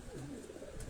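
A single short, soft coo from a pigeon, heard faint and close in a quiet setting.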